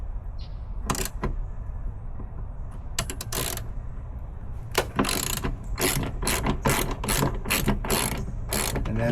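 Ratchet loosening the hood bolts on a 2024 Cadillac CT5V Blackwing during a carbon fiber hood install: a few scattered clicking bursts at first, then a steady run of rapid ratcheting strokes, close and clear over faint garage background.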